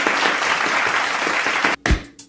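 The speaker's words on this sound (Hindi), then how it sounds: "तो इस बात पे प्लीज़ तालियां बजाओ" A short burst of clapping from a small group, dense and fairly close, cut off abruptly near the end, followed by a brief low thump.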